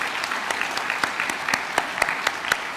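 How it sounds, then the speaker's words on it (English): A crowd at a 2021 scholars academy graduation ceremony applauds the graduating scholars, dense, even clapping with a few sharper individual claps standing out, lasting the whole stretch without any speech. "So let's give one more round of applause congratulating this wonderful group of scholars."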